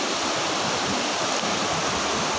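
Strong waves surging and washing against rocks at a summer beach, a loud, continuous broadband roar with no break.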